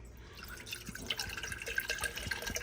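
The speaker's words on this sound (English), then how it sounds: "I've got my glass jar on there, and I'm gonna go ahead and measure out 650 grams of water" Water from a tap trickling and dripping into a glass jar set on a kitchen scale, a steady light splashing that continues alone at moderate level with small irregular drips.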